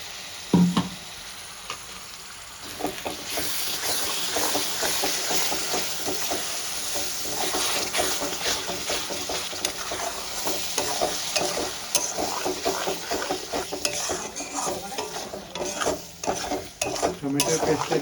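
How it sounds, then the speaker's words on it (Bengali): Tomato paste fries with masala for Kashmiri chicken, a loud, continuous sizzle that swells after a quiet start, with constant stirring scrapes and clinks of a spoon against the pan; no voices. "টমেটোর পেস্টটা দিয়ে আমি ভালো করে কষিয়ে নেব, টমেটোর কাঁচা গন্ধটা চলে যাওয়া পর্যন্ত।"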